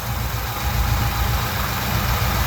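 A 1966 Dodge Coronet engine idling steadily at about 750 rpm, a continuous low rumble with no speech.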